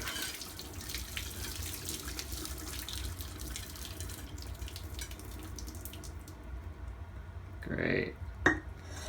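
Pasta cooking water poured out into a kitchen sink, a steady rushing splash with metallic pot clatter, fading into a quieter tail with a couple of sharp clinks near the end; a voice talks in the background.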